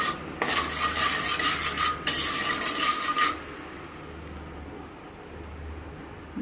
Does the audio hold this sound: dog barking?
no